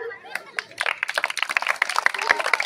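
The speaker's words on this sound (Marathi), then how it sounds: "जरा जोरदार टाळ्या वाजूया." An audience at a Navratri Home Minister game show breaks into applause, scattered claps building to dense, lively clapping, with a voice speaking over the start.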